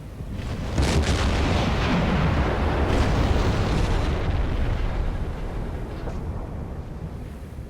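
A torpedo from the submarine USS Balao strikes a ship just after midships in Silent Hunter 4: a loud, sustained rumbling blast that swells and slowly fades, filling the space.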